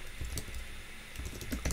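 Keys clacking on a computer keyboard, entering text into a software tool, in quick irregular bursts of taps at moderate level over a quiet room background.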